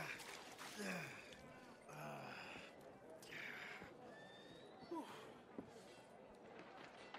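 A horse in Red Dead Redemption 2 neighs and snorts in the town of Valentine, with game voices talking over and between the calls.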